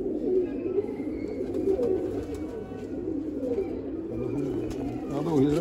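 Pigeons kept by a fancier coo in low, repeated rumbling phrases, fairly close and steady over a busy background.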